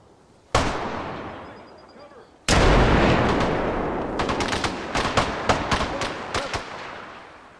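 Machine gun fire in the ArmA Reforger combat game: a single sharp shot, then a heavy sustained burst followed by a rapid string of loud, closely spaced gunshots.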